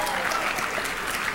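Steady, dense audience applause fills a university award ceremony hall, a continuous wash of many hands clapping at even loudness throughout.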